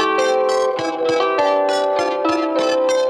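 Rhythmic plucked notes pass through a Chase Bliss Lossy pedal set to mimic a heavily compressed, low-bitrate MP3, with regular bright attacks over held tones, steady and loud with no talking.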